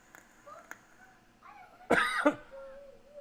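A single sharp, loud cough close to the microphone, followed by a short tonal sound, against a quiet background.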